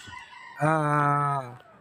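A gamecock broodstag rooster crows once, a loud, drawn-out call close by, with faint background noise before and after.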